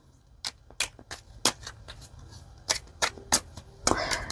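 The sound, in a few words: quick shuffle of a Tarot of the Owls card deck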